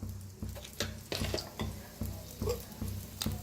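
Half a spoon of cumin seeds crackles in hot oil in a kadhai, with steady faint sizzling and regular scraping stirs about every half second.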